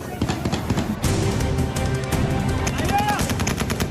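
Rapid gunfire near Kabul airport, with bursts of shots crackling close and loud across the whole stretch under a noisy background.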